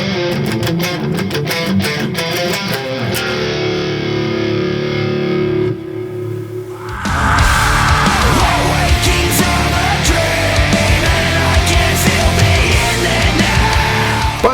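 Heavily distorted electric guitar playing the closing section of a song, loud chugging riffs that drop out briefly near the middle, then return denser and more saturated, with no talking.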